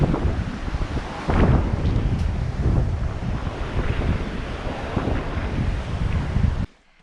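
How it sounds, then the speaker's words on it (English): Strong wind buffeting the microphone on a steep mountain trekking trail toward Everest Base Camp in Nepal, a continuous loud roaring rush with gusts, cutting off abruptly at the end. "It's quite windy."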